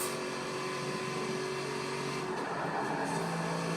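Chevrolet's first mid-engine Corvette in the racing game Forza Horizon 4, a loud, continuous engine drone holding steady and close, with the pitch shifting slightly as the car drives.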